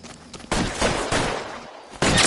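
Gunfire in an L.A. Noire shootout: several loud, sharp bursts of shots and rattling volleys crack out close by over a noisy background.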